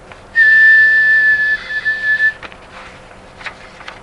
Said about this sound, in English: and the tea kettle whistled